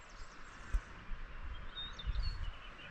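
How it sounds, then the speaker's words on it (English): Birds sing near a stable in the North Yorkshire Dales, a few faint high chirps and short whistles over low ambient rumble and occasional soft knocks. "It's lovely, isn't it, listening to birds."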